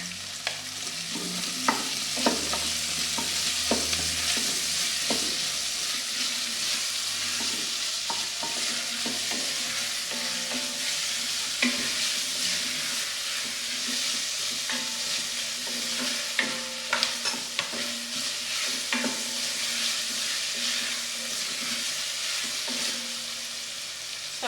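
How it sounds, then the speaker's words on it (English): Onions frying steadily in a pan while garlic and ginger paste is stirred in for a steak and kidney pie filling: a continuous close sizzle broken by repeated scraping and clacking of a spoon, with no talk. "The onions are coming along nicely, so I'm just going to add the garlic and ginger paste."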